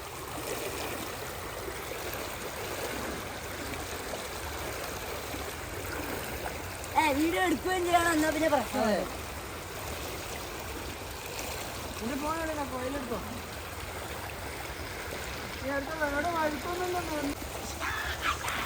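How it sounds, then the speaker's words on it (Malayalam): A rain-swollen village stream flowing strongly, a steady rushing wash of water heard at moderate distance, with people talking over it and a dog barking in short bursts. "നല്ല ഒഴുക്കുണ്ട് വെള്ളം നോക്കിയത്"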